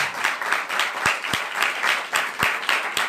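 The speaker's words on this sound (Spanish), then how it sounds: "Dale más palmas a papá." Clapping from a church congregation during a Spanish-language sermon on sanctification, a steady rhythmic crowd clap with a few sharper individual claps standing out, fairly close and continuous with no talk over it.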